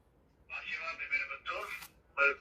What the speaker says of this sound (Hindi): रिंगटोन लगी हुई है, रिंगटोन सुनाता हूं आपको मैं